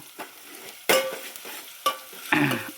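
Onions tossed into a hot pan give a few bursts of sizzling and stirring, loud hisses separated by quieter gaps, heard up close with no talking.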